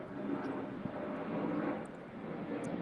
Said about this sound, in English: You can hear the planes, all the noise.